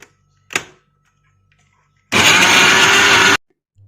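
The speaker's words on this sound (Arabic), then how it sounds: "بس اول حاجة نضرب التوم في الفلفل في الطماطم" A kitchen blender grinds garlic, hot peppers and tomatoes in one loud, steady whir lasting just over a second, after a brief clatter and near silence.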